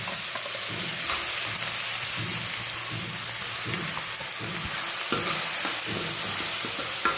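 Chopped onion, tomato and green chilli sizzle and fry loudly in a hot pan with cumin and asafoetida, with steady crackling and intermittent stirring scrapes throughout, no voices.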